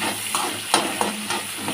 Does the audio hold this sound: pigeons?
no